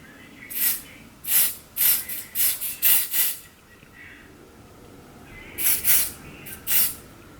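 Short hissing bursts of Dior Airflash spray foundation, several quick puffs in a cluster, a pause, then three more sprays, close and fairly quiet.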